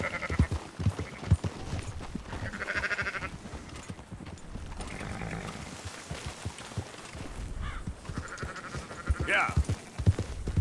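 Sheep in the video game Red Dead Redemption 2 bleat repeatedly in short wavering calls amid the shuffling of a herd being rounded up, with faint hoof and footstep sounds and people talking in the mix.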